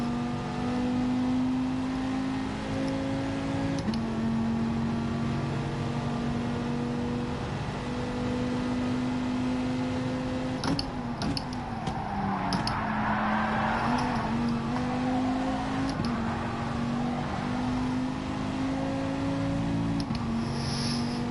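A racing car engine in a racing video game revs high and steady while running in a slipstream, a sustained droning whine with a few brief dips and shifts in pitch.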